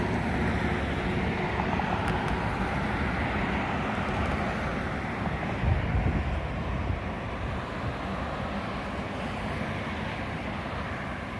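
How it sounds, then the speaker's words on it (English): Wind blowing through trees along the Las Vegas Strip, a steady broad rushing roar with gusty buffeting on the microphone, continuous throughout and without talk. "As we see the wind blowing through the trees here."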